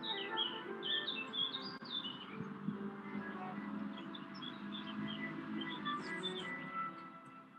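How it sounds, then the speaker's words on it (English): Birds chirp and tweet at a distance over a constant low hum of faraway traffic. "I can hear its cars on the wind just under the birdsong."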